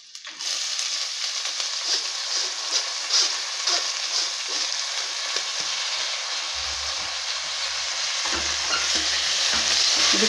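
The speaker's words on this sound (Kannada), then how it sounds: "ಈಗ ಈ ಕಾಳು ಹಾಕ್ತಾಯಿದ್ದೀನಿ." Horse gram sprouts hit hot oil with softened onions in a pan, giving a loud, continuous sizzle with crackling and stirring scrapes throughout, a low rumble joining near the end.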